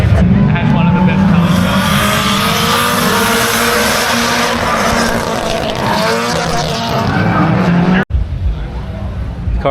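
JDM cars drifting at a car event: loud, continuous engine roar with rising and falling revs and tire noise, close by and sustained, cutting off abruptly near the end.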